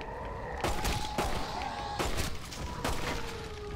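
Rapid gunfire in the Red Dead Redemption: Undead Nightmare video game, three loud bursts roughly a second apart over a steady game soundscape with a low hum.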